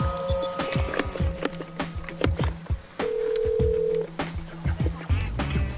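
A telephone call is dialed, with a run of short tapped keypress beeps and tones in irregular rhythm, including a held steady tone partway through.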